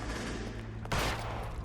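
Gunfire in the crime video game L.A. Noire, a Tommy gun among the weapons, bursts over a dense wash of game noise, swelling louder in a sharp volley partway through.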